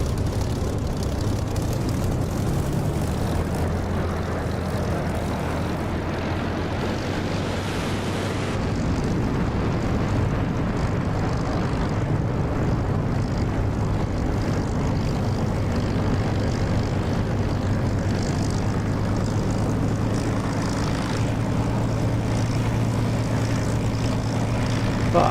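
A propeller aircraft engine in the DCS flight simulator holds a steady, loud droning roar near 1500 RPM while taxiing with brake applied. The drone continues without a break and no one speaks.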